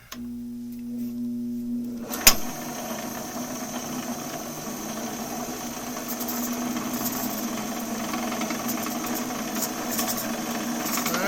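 Wood lathe spinning at about 1,000 RPM during woodturning, a steady mechanical hum with a low tonal whine, after a brief knock early on, running continuously at moderate level.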